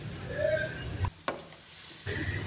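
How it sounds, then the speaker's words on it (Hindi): A spoon stirs cubed turnip into spinach in a pot, making soft moist scraping over a gentle sizzle, with a brief quiet gap partway through. "चम्मच हिलाकर इसको अच्छी तरह मिक्स करें शलजम को"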